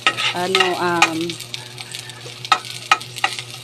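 Onions hitting hot cooking oil in a pan for a sardine and sponge gourd dish, a brief stirring clatter, then a steady close sizzle with sporadic pops and crackles; a faint tonal voice-like sound passes at the start.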